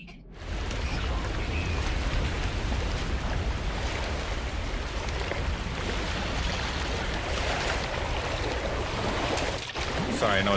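Big waves crash and roar without a break in an ocean scene in the No Man's Sky video game, a loud, dense wash of surf that runs the whole time with a brief dip near the end.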